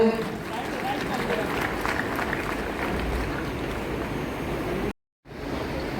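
A crowd at a Civil Defence and Home Guards event applauds steadily to welcome guests, a broad continuous clatter of hands with a short gap near the end.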